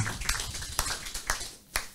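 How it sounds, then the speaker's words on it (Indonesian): In a small room at a farming training session, a few sharp, separate claps land about half a second apart after an introduction. They sound sparse and close. "Tepuk tangan ini untuk Pak D-nya."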